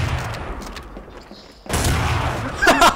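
Gunshots from a gunfight in Garry's Mod start abruptly after a quiet stretch of faint voice, then a loud, dense burst of shots continues to the end.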